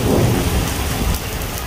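Heavy rain pours down in Dadyal with thunder rumbling through it, a dense, steady roar of rainfall that stays loud and close for the whole stretch, with no voices.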